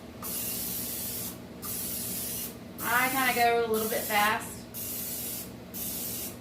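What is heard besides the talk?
butter spray spraying muffin tins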